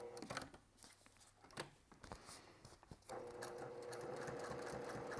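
Sewing machine stitching a cork journal around a corner, quiet start-stop bursts of stitching with clicks and handling noises, then a steadier continuous run toward the end, close and fairly faint.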